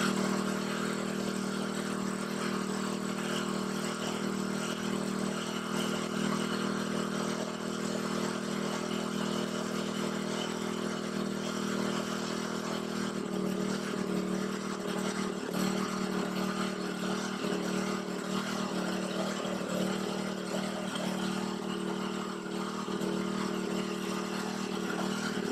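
A Christie Engineering 12-volt, 55-amp portable generator made in Australia runs with no load, a steady mid-pitched engine drone that holds even and continuous, shifting slightly in tone partway through as it warms up.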